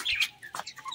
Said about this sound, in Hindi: ये रही हमारी जी ब्लैक वाली मुर्गी।